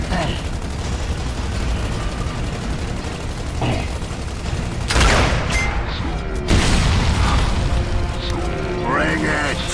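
Video game gunfire erupts in bursts, with loud booming shots and rattling mechanisms amid shouting voices.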